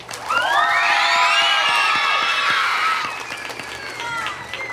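Student audience at a school reader's tea cheers and applauds for the winners, a loud burst of shouts and whoops over clapping that fades slightly toward the end.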